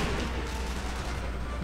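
Dense, continuous gunfire and booming blasts from the sniper shooter game Sniper Elite V2, loud and sustained, with no gaps across the short span.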